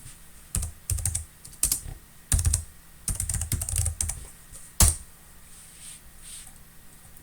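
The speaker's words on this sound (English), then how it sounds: "We can do it simply by typing" Typing on a computer keyboard on a Linux machine: bursts of quick, close key clicks in irregular clusters with short pauses between, fairly quiet and alone.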